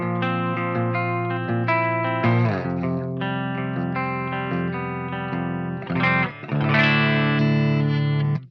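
Electric guitar on its bridge pickup through a Qi Etherealizer with King's Cab impulse responses, a sustained lo-fi chorus-and-reverb wash of picked chords and notes, close and full, no talking.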